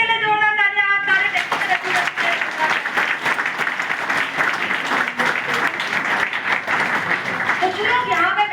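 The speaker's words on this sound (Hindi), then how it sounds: "विपिन सर के लिए जोरदार तालियां।" Loud, sustained applause from a seminar audience, dense clapping filling the room for several seconds after a voice, which returns briefly at the end.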